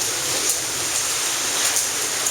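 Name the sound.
hail and rain falling during a thunderstorm in Dallas, Texas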